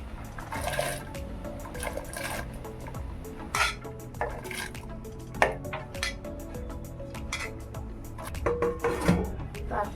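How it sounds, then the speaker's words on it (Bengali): Soaked chana, matar and masoor dal being stirred in a pot for coconut khichuri, with a wet sloshing churn, scattered clinks of spoon on metal and clatter throughout. "ভালো করে নেড়ে দেব।"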